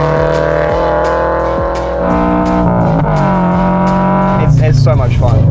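A slightly modified Toyota GT86 with unequal length headers revs loudly with a raspy, climbing engine note. Pitch swells and drops as the throttle changes, and a voice talks over it.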